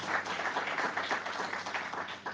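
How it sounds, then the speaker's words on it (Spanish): Congregation applauding during a church sermon, a steady, moderately distant patter of many hands clapping with no one speaking over it. "Damos un aplauso y le decimos, Señor, yo quiero ser de esos."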